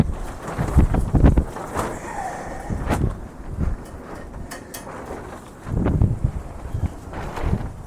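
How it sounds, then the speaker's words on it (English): Strong, freezing wind blows outdoors around a rabbit enclosure, with rough gusts rumbling against the microphone, easing off and surging again. "Get her covered up out of the wind, because good grief, it is brutal out here right now."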